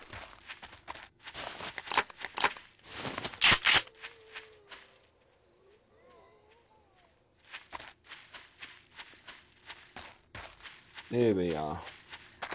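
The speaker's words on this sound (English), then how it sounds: "Now I can hear quite a few footsteps." Footsteps crunch in 7 Days To Die, a run of quick close steps early on, then a quiet stretch before more scuffing movement, with someone talking briefly over them.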